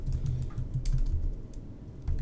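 Typing on a computer keyboard while entering shipping rate details for an online store, a steady patter of close, quick key presses running throughout without any talking.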